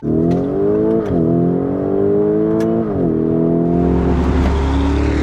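A Lamborghini Urus S engine in Corsa mode revs loudly and accelerates through several gear shifts, the pitch climbing and dropping, then a deep steady drone.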